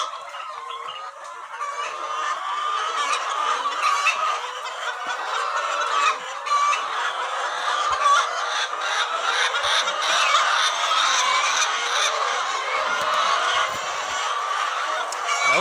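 A dense chorus of laying hens clucking and squawking continuously on a poultry farm, many birds close by, with no talking.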